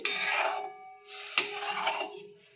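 Thickened milk being stirred in a cooking pot for a Bengali rice payesh, with soft scraping and light metallic clinks of the spoon against the pan, steady and close, fading briefly midway before resuming.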